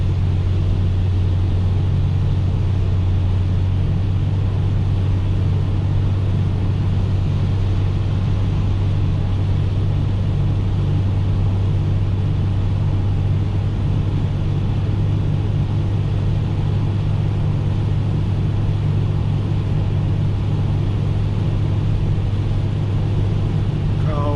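Inside an Oldsmobile Cutlass on a long drive, a steady low engine drone and road rumble holds loud and unbroken throughout, with no talk.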